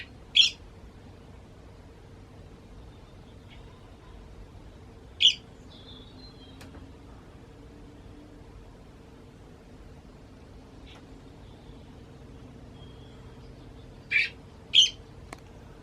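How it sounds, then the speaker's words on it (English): Young blackbirds call from a nest in a few short, sharp high chirps, one near the start, one midway and a quick pair near the end, spaced over a faint steady hiss. "Young birds in there. I think it's blackbirds in there."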